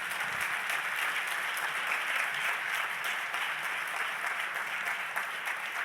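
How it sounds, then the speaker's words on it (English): An audience at a plenary session on low-carbon healthcare applauds steadily, a dense even patter of many hands at moderate distance that keeps going for several seconds. "I think we can applaud these great leaders"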